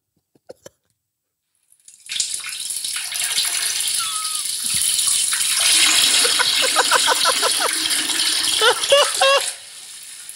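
A man urinating into a toilet, a steady splashing trickle of liquid that starts after a few faint clicks, holds for several seconds with rattling, bubbly texture, then stops abruptly; heard close with no talking.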